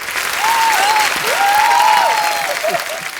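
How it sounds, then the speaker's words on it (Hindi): Studio audience at a televised Hindi comedy show claps loudly and steadily for about three seconds, with a few sharp whistles rising over the applause. "जिन जिनको बात अच्छी लगी जोरदार तालियां।"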